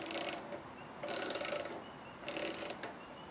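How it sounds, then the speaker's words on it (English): A 3/8 socket ratchet loosens the front bolt on a Briggs & Stratton PulsaPrime engine, giving three short bursts of rapid close clicking separated by brief pauses, with no talking. "take your 3/8 socket, your ratchet, remove this front bolt here."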